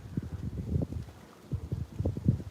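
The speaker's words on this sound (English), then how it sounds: "Do you hear the wind?" Low, gusty rumbling of wind buffeting a microphone in uneven pulses at a beach at night, with no other sounds.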